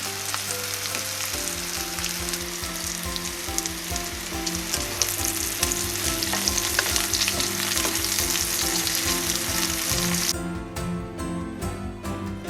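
Bacon seasoned with salt and pepper sizzles loudly and steadily as it fries in a pan, a dense continuous crackle with no voices.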